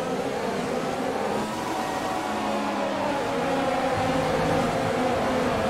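Formula 1 race car in F1 2020, engine droning steadily at high revs with shifting pitch and a faint whine of wheelspin, loud and continuous throughout.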